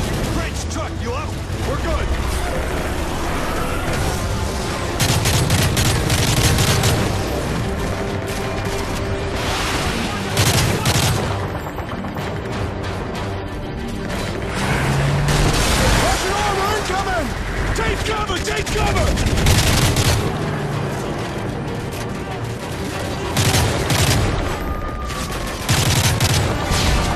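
Heavy gunfire from Call of Duty Modern Warfare 3: loud bursts of automatic fire and sharp shots with booming impacts, coming in waves over almost half a minute, with voices shouting over the battle.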